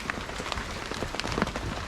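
Soft, steady rain patters on a surface outdoors at a shoreline, with scattered droplet ticks over a constant hiss.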